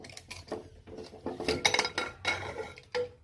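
Metal lid of a pressure cooker clanks and scrapes as it is lifted off, several sharp clinks and knocks close by, with no talking.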